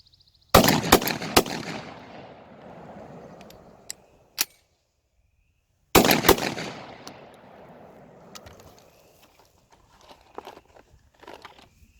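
Black Aces Tactical Shockwave semi-auto shotgun firing break-in rounds outdoors, two loud bursts of rapid close shots separated by a pause, each followed by a long fading echo and scattered smaller clatters.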